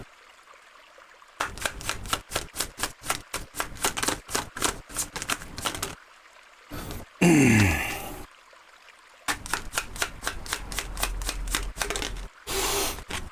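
Tarot cards riffle and shuffle in quick bursts of crisp, rhythmic slaps and flutters close by, broken by short pauses and one sweeping rush, with no talk.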